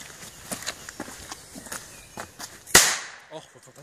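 A single sharp pyro firecracker bang cracks out near the end, loud and close, after a few softer clicks and rustles against outdoor background noise.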